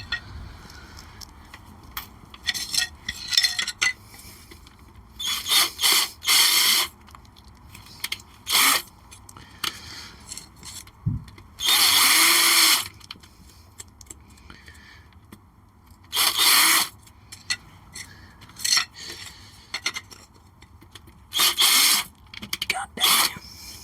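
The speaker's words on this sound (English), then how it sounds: "I'm going to countersink the screws." Short, loud bursts of a power drill countersinking screw holes in wood whir in close, each lasting about a second, with a person talking quietly between them.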